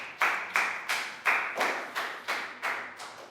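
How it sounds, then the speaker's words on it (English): Pupils in a Year 3 English class give a round of applause for a classmate, heard as about nine evenly spaced, sharp clap bursts in a steady rhythm, with no talk over them. "Big round of applause for Lakau."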